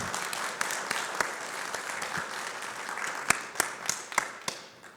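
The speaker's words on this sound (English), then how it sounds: "So let's give them a round of applause for their." Applause from a conference audience thanking event sponsors at a software-defined radio gathering, a steady patter of many hands with a few sharper nearby claps toward the end.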